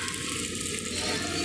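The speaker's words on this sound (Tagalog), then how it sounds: "baha na sa kalsada Kernel, oh." Floodwater runs along a street in a steady, broadband rushing wash, continuous and close, with no voices.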